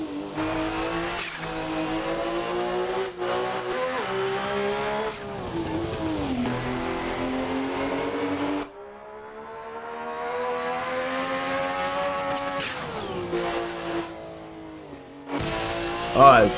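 A 1017 BHP Mitsubishi Lancer Evo IX is lapped around the Nordschleife in a racing simulator game, its engine revving high and dropping through gear changes in long sustained sweeps, with brief tire squeals and no talk.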